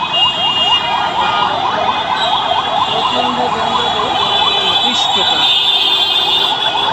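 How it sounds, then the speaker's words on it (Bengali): An ambulance siren wails in a steady, rising-and-falling pattern through a Dhaka traffic jam, loud and close, above the general hum of the street. "এই যে অ্যাম্বুলেন্সটাকে ছেড়ে দেওয়া হলো সিগন্যালটাকে অন করে এই যে অ্যাম্বুলেন্সটা বের হয়ে গেল"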